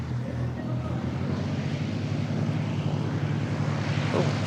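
Aircraft taking off at Christchurch Airport, heard from a distance as a steady, faint broadband engine roar that holds and slowly swells throughout.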